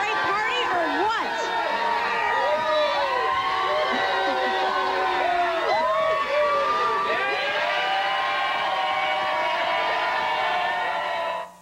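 Guests at a crowded house party of about 120 people whoop and shout through a steady din of overlapping voices, cheering loudly and close by.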